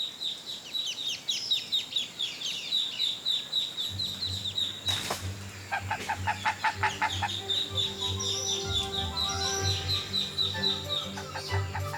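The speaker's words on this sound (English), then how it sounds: "A Muscovy duck encourages her chicks to leave the nest." A Muscovy duck and her chicks calling at a nest in the Guyana rainforest along the Essequibo: continuous high, thin peeping from the chicks with lower clucking and rainforest ambience layered in partway through.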